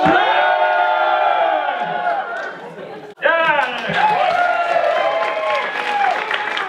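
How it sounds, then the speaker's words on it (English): A large school crowd lets out a loud, sustained cheer with whoops and chatter; it dips briefly around the middle, then surges back up as voices continue over the noise. "on the count of 3, we are going to call in our players with a loud cheer"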